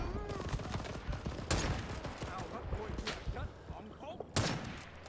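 Gunfire in the video game Rising Storm 2: a few sharp, loud shots crack out, well spaced, over a busy background of game noise and distant battle clatter.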